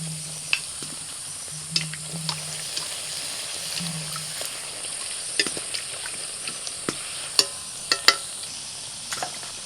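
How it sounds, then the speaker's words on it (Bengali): Luchi flatbreads fry one at a time in hot oil, giving a faint, steady sizzle broken by scattered crackles and pops, with a few brief low bubbling murmurs near the start. "এবার একটা একটা করে লুচি ভেজে নেব।"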